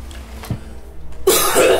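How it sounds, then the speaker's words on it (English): A single short cough in the middle, followed by a burst of harsh, noisy coughing or throat clearing near the end, close to the mic. "Sorry for coughing so much, everybody."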